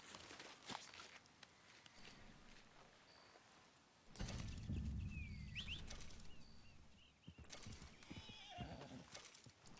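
A horse gallops in the video game Red Dead Redemption 2, with quick clip-clop hoofbeats, a whinny and shifting rustles, fairly quiet and without talking.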